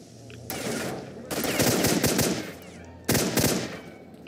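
Enemy gunfire in the game S.T.A.L.K.E.R., loud bursts of rapid shots in three separate volleys, the middle one longest, each with sharp distinct cracks.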